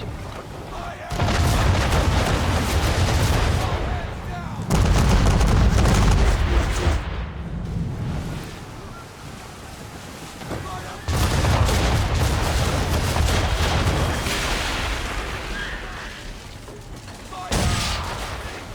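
Heavy rolling volleys of cannon broadsides boom in long sustained bursts, loud and dense, with brief lulls between barrages and a final sharp burst near the end.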